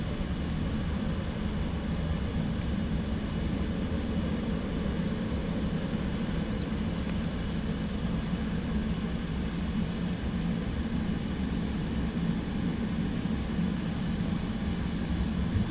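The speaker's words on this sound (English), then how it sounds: "Departure will be a Wizz Air." A Wizz Air airliner departing Luton Airport in the early morning, a steady broadband jet engine roar heard from a distance, sustained and even throughout with no speech.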